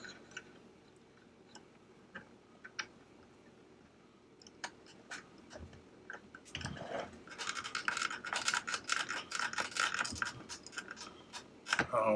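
Small PB screws being driven by hand into plastic parts of an Agora Models Optimus Prime build, heard as soft close ticking and scratching that grows into denser, busier clicking and grinding in the second half.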